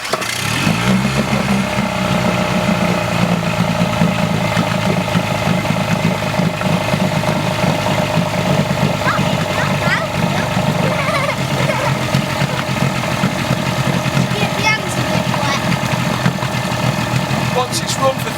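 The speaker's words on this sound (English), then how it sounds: "with the choke out, we're just going to pull the engine" An outboard engine with the choke out is pull-started, catches and settles into a steady, loud, close idle rumble that runs on without stopping, with a person talking over it.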